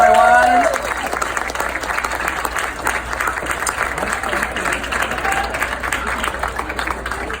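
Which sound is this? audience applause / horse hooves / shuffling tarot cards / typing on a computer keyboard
audience applause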